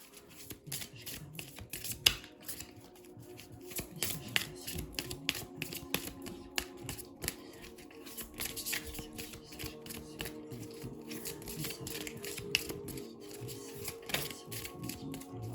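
Cards being laid out and handled during a card reading, a steady run of quick soft flicks and taps, close and quiet throughout, with no talk.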